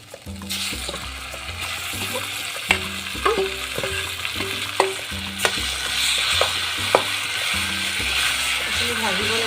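Potato and Indian gooseberry pieces frying with turmeric in hot oil, a steady close sizzle with repeated clinks and scrapes of a spatula, low tonal hum underneath.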